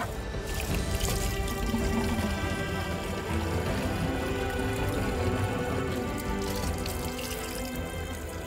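Spring water pours steadily into a gallon container on a mountain, a continuous loud splashing gush with no break throughout.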